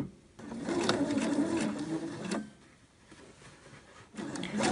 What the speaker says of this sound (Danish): Når jeg syr rundt i sådan en runding, så skubber jeg ligesom lidt ekstra bånd ind.